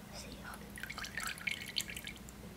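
Fruit coated in beeswax being dipped and cooled in water, giving close, faint drips and small splashes over low background noise.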